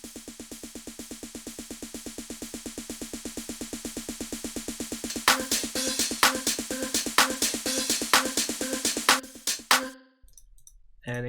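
A trap-style snare roll in a tech house track, rapid evenly spaced hits that build in loudness, joined halfway by bright accented crash and ride cymbal strikes, then cutting off abruptly into near silence.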